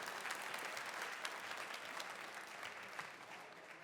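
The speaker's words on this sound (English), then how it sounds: "let's give a huge round of applause to every band that's been up on stage tonight" An audience at a live band competition heat claps steadily for the performers, a dense, even round of applause with a few sharper claps standing out.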